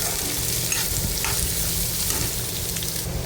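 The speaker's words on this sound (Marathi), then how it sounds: "आता बारीक चिरलेला कांदा घालायचा याच्यामध्ये। कांदा आपल्याला व्यवस्थित परतून घ्यायचा आहे।" Finely chopped onion fries in a pan for a tomato bhaji, giving a continuous close, loud sizzle with occasional stirring scrapes and no voices.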